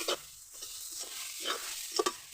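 Chopped water spinach (kolmi shak) frying in a pan, stirred with a few scraping strokes spaced through a quiet, soft sizzle; close and fairly gentle, with no talking.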